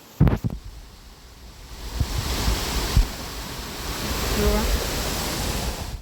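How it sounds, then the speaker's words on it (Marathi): Water runs down a stream and pools along a village road, a steady broad rushing wash that swells slightly toward the end, with a few knocks and bumps near the start. "इथं पाणी साठलंय रस्त्यातच आणि इथनं खाली जातं ते"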